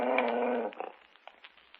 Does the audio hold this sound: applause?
no